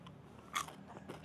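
A single crisp bite into crunchy fried chicken skin, close and quiet, with a sharp crackle followed by a smaller crunch.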